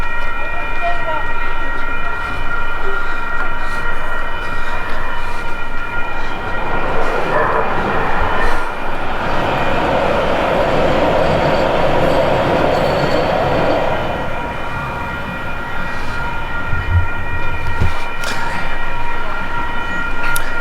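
A train rumbles past nearby in Highland Park, Los Angeles, near the Santa Fe Arroyo Seco Railroad Bridge, with steady rolling noise and a metallic squeal that rises and fades over several seconds.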